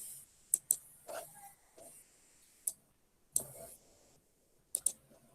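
Sharp mouse clicks on a computer button while building a pivot table in a spreadsheet, several isolated clicks, some in quick pairs, over a quiet room.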